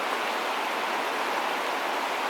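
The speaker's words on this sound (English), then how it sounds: "That sound you hear is the raging river." A raging river in the Teton Wilderness of Wyoming near the Yellowstone headwaters, rushing as a steady, dense wash of water noise, close and constant with no voices.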